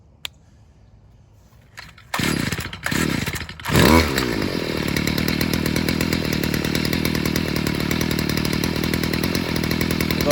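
A Stihl string trimmer pulls over a few times on choke from a cold start, sputters, then catches and runs at a loud, steady two-stroke idle that continues alone to the end.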